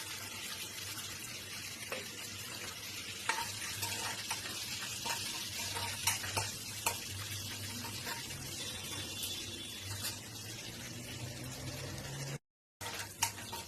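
Mustard seeds, cumin, onion and curry leaves frying in hot oil, a continuous dense sizzle with scattered crackles and pops throughout, briefly cutting out near the end.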